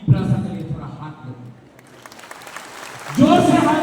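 Clapping from a crowd at a Tipra Motha and BJP political rally rises in the middle as a noisy, moderate patter, with someone speaking loudly before and after it.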